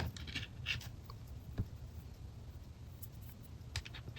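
Faint, quiet snips of scissors cutting knotted thread while sewing a laptop bag, a few short crisp clicks spaced out over a soft, low background hum.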